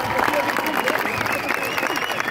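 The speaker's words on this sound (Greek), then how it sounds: "πάμε, έλα Επεσός, δυνατό χειροκρότημα" A crowd at a New Democracy political rally in Greece applauds and cheers in a steady, noisy wash of clapping, with voices shouting and talking mixed through it the whole time.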